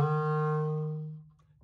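A clarinet sustains a low note with a smooth, round tone, held steady for over a second before fading out, alone and close.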